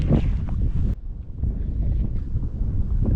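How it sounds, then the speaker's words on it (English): Strong wind blowing through a river canyon on the lower Gunnison River, roaring and buffeting close against the microphone in continuous low rumbling gusts, with a brief drop in force near the one-second mark. "Wind's taking me downstream, sorry."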